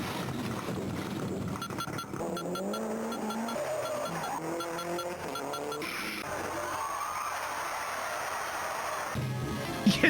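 Rally cars racing in the arcade video game World Rally, a continuous synthesized engine drone with rising and falling pitch sweeps and tire-squeal tones, dense and steady throughout with bright electronic chirps layered on top.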